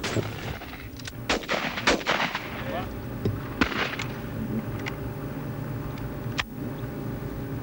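Shotguns fire at clay targets in a scored competition, several sharp, loud reports coming singly at irregular intervals over a faint outdoor background.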